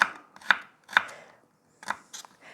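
A knife chops vegetables on a board in a few sharp, quick strikes, close and crisp, with short pauses between bursts.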